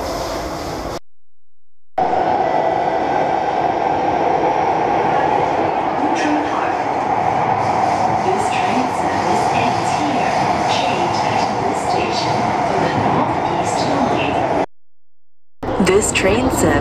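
A Singapore East West Line subway train roars steadily along the tracks with a loud, continuous rumble and high whine, briefly cut off near the start and end.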